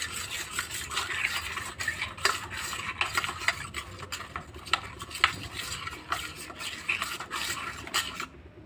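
Fish pieces are tossed with salt in a bowl for chilli fish, a close, busy run of wet scraping and rubbing strokes with faint clinks, no voices.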